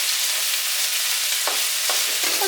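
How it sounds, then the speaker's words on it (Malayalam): Green chillies being stirred into chicken frying in a pan, a steady sizzle with a few scraping strokes of the spoon toward the end, close and alone with no talk. "പച്ചമുളക് ചേർത്തിട്ട് ഇത് ഇളക്കുക."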